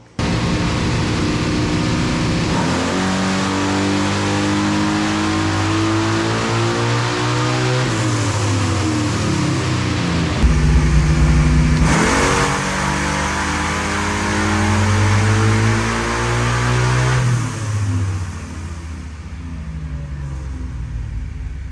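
Camaro ZL1 fitted with an L89 engine revving hard on a dyno, loud sustained engine roar climbing through the gears with rising and falling pitch sweeps, then easing off at the end, no talk.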